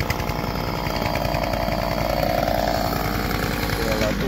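The steady, buzzing rattle of a homemade vehicle engine drags a big log on a rope, running loud and continuous with voices faintly underneath.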